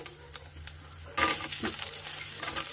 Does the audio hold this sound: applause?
no